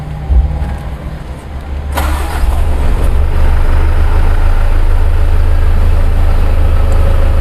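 The diesel engine of a 2022 Mitsubishi Fuso Canter Euro 4 FE71L truck cranks and catches with a sudden loud burst, then settles into a steady, heavy idle rumble close by.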